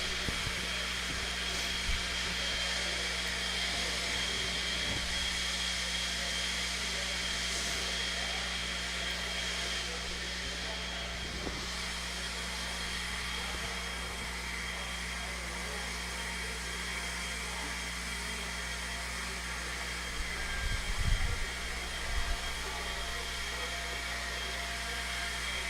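Electric 17.5 four-wheel radio-controlled off-road race cars run a heat at the MHOR RC Raceway, making a continuous high whirring motor hum, fairly loud and unbroken, with faint crowd noise underneath.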